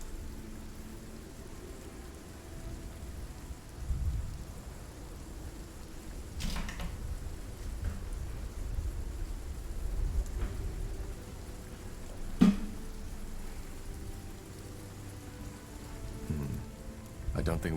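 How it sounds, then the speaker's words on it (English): Steady rain falling during a storm in the video game Spellforce 3, a soft continuous patter with faint low rumbles and a few sharp clicks, fairly quiet and alone. "The rain sounds badass in my headphones."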